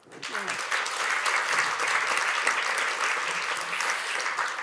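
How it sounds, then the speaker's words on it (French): Audience applause for a violin and cello duo after a Vivaldi sonata at a prize concert, loud, dense, sustained clapping from a full hall that starts abruptly and holds steady throughout. "On peut les applaudir encore une fois."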